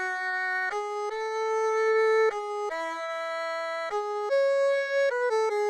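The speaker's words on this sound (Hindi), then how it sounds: "तो एरहू को सुनते हैं ये कैसा साउंड करता है।" An erhu, a Chinese two-string bowed fiddle, plays a short sampled melody of sustained notes with smooth slides between pitches, clear and alone with no talking.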